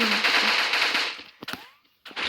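Gunfire rings out in a shooting video game against bots: a dense crackling barrage at first, then scattered sharp bursts separated by short silences.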